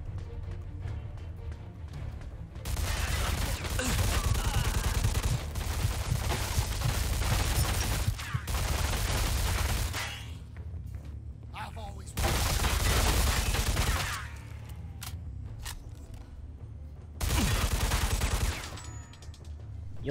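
Long, loud bursts of rapid machine-gun fire in Mafia 2 roar in several sustained volleys separated by short lulls, with faint voices mixed in.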